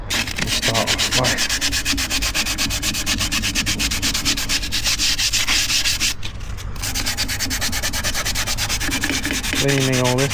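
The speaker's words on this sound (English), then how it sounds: "what we'll do is we'll get a new bit of sandpaper." Fresh sandpaper scrubs continuously during caravan servicing, with loud, close, rhythmic back-and-forth strokes running almost without pause throughout.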